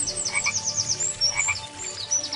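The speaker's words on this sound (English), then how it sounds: "a frog jumped out of the water" A cartoon frog in a fairy tale croaks in quick repeated bursts, a steady chorus of close, moderately loud croaks running throughout with no talking over it.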